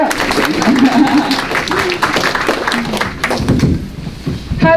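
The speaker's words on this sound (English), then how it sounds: "Clap it up, clap it up." Audience applause at a public meeting in a church, loud and steady clapping for several seconds with voices mixed in, fading toward the end.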